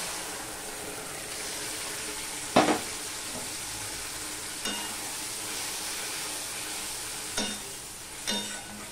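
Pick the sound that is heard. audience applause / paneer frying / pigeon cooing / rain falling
paneer frying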